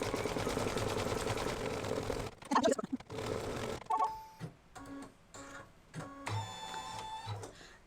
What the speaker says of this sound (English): it's just going to stitch the placement for both pieces of